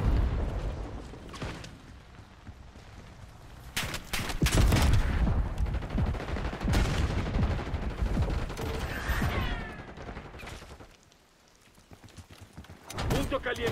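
Hostile shooter's gunfire in the multiplayer shooter Call of Duty Black Ops 6, bursts of shots mixed into a busy battle soundscape with overlapping game voice callouts.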